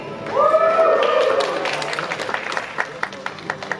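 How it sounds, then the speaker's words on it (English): Pageant audience at a Canadian inaugural beauty pageant greeting contestants, with a drawn-out cheering voice at first, then scattered claps that thin out toward the end. "Please join me in welcoming them to stage with thunderous applause"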